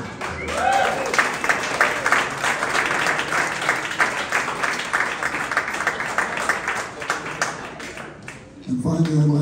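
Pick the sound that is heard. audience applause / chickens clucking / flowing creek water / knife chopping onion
audience applause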